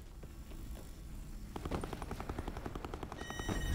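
Rapid automatic gunfire in an online battle-royale shooter: a fast, steady stream of close shots that starts partway through and keeps going under continuous game ambience.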